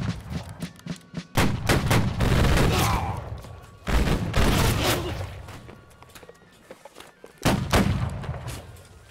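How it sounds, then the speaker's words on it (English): Massed musket volleys in the Battle Cry of Freedom video game, several loud crashing rounds of gunfire in bursts separated by short pauses, with rolling echoes and scattered nearby shots between volleys. "Are they firing at will, or are they volley firing? Looks like they're volley firing."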